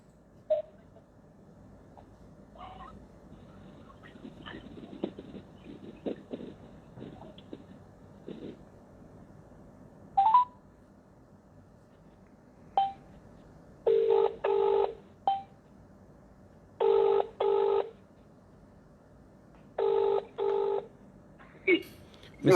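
Telephone keypad tones beep singly and in quick pairs, then a repeating ringback tone sounds in regular bursts as a call is redialed during a hearing, with faint talk between the tones.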